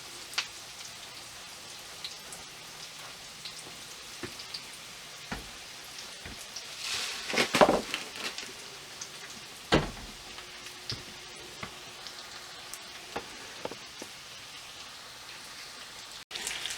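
Homemade chicken nuggets frying in a pan, a soft continuous sizzle with scattered pops and crackles, fairly quiet and close, a couple of louder spits partway through, with no talking.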